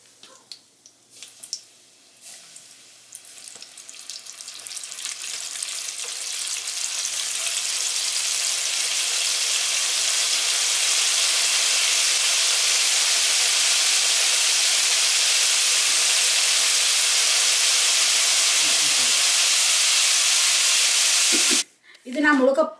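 A whole cuttlefish (calamari) fries in hot oil, a loud, steady hiss and sizzle that builds after a few seconds and holds, with brief clatter at the start and end.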